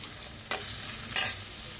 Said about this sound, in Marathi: गरम मसाला 1 चमचा भाजून घेऊया